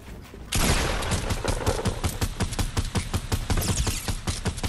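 Rapid, loud gunfire from Fortnite gameplay: a dense stream of close shots crackling in quick succession for several seconds, with no pauses between bursts.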